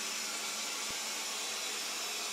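A Proscenic 820S robot vacuum cleaner running in a nearby room, a steady broadband whirring hiss that stays constant throughout with one brief low thump partway, no voices.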